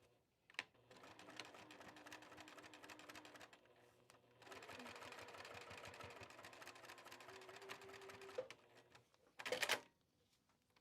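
A sewing machine runs in steady stitching bursts, two long runs of rapid mechanical whirring separated by a short pause, fairly quiet and close, with a brief louder clatter near the end.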